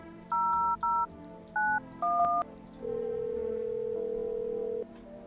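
A phone in a horror video game, No, I'm Not a Human, gives four short paired keypad beeps, then a longer steady tone, alone and moderately loud.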